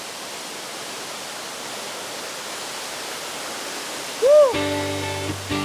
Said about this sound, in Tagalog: Yes mga bikers, dito na tayo sa UTOD Falls.